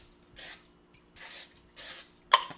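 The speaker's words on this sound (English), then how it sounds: "we're gonna grab our butter-flavored non-stick spray. We're just gonna put a nice coating on that" Butter-flavored non-stick cooking spray hisses from an aerosol can onto a cast iron pan in three short bursts, close and clear, followed by a small clink.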